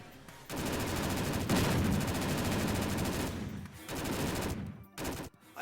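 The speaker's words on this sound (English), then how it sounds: "I do like the sound the Gauss cannon makes when it's going at double speed." Rapid, continuous electronic fire from the Gauss cannon in the video game Descent 2, shooting at double speed, loud and sustained with brief pauses between bursts.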